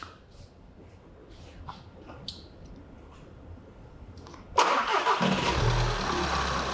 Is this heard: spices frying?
no